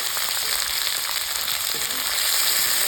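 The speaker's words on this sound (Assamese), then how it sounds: "এতিয়া মই ইয়াত দিছোঁ ডিম আলু মটৰ" Egg, potato and peas fry in hot oil in a pan, producing a continuous close crackling sizzle with no talking.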